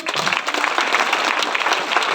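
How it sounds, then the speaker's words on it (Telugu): A crowd at a motivational talk claps in a dense, loud burst of applause that holds steady for a couple of seconds. "ఒకసారి చప్పట్లు కొట్టండి"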